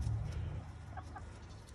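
Backyard chickens cluck softly and briefly as they squabble over food, a few quiet calls over a low background rumble.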